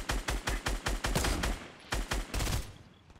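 Gunfire in a Fortnite match rattles out in two rapid bursts of sharp, evenly spaced shots, close and fairly loud, before trailing off into quiet.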